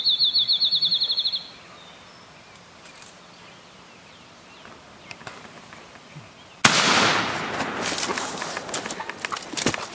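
During an Ohio youth-weekend turkey hunt, a shotgun fires once at a turkey, loud and sharp after a quiet stretch, with rustling afterwards and a brief high-pitched call heard at the start.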